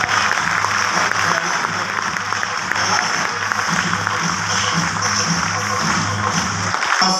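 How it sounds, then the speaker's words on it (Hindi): A seminar audience claps together in a sustained round of applause for a former boss, steady and dense across the whole stretch, with crowd noise and a voice underneath. "ताली जमकर बजाओ यार"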